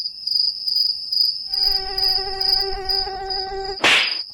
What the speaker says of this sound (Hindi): मच्छर काट गया